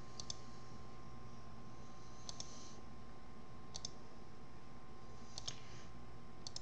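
A computer mouse clicks quietly in a handful of sharp double clicks spaced a second or more apart over a faint steady hum, with no talking.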